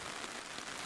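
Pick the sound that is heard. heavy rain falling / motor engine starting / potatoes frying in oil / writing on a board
heavy rain falling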